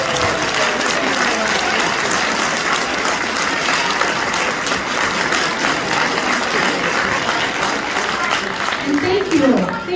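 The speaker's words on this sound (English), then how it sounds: "We'd love to give you a round of applause for being part of our Shirley Hills" Dense, continuous applause from a school spring concert audience honoring graduating fourth graders, loud and steady throughout, with some voices mixed in beneath the clapping.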